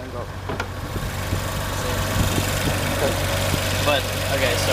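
2019 Audi RS5 twin-turbo V6 idling with the hood open, a steady low rumble up close, with a voice talking over it.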